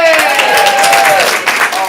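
A comedy improv show audience applauds loudly and briefly, dense clapping mixed with cheering voices for about two seconds.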